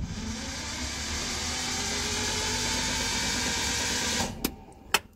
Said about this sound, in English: We have a starter motor that's engaging.